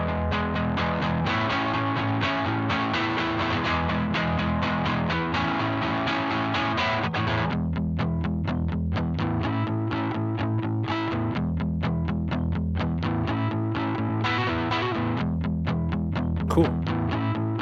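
Distorted electric guitar with a shimmering chorus effect, playing chords and choppy rhythmic strums, loud and steady throughout with no talking.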